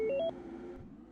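A phone message notification chimes as a short rising sequence of bright electronic tones, loud and clear at the start, then gives way to quiet background sound.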